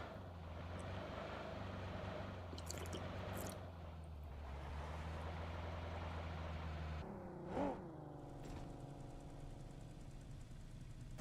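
A car driven in the battle-royale game PUBG Mobile gives a low, steady engine drone that shifts pitch near the end, quiet and distant under the match's faint background sounds.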